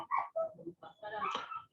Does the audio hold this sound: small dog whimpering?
yes